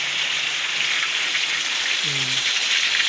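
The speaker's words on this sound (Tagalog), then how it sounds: "Maliban sa malamig, malakas pa ang ulan." Heavy rain falling on a cold morning, a dense, loud, even hiss of downpour throughout, with a brief low murmur of voice partway through.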